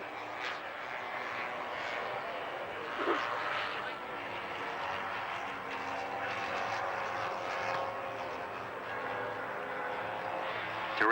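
Propeller aircraft roaring steadily overhead at the Woodvale airshow as a pilot banks onto a wingtip, a continuous broad engine drone that swells slightly, with crowd ambience around it.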